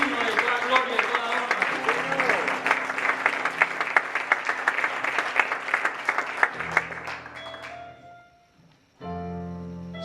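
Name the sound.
applause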